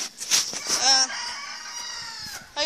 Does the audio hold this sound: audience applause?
no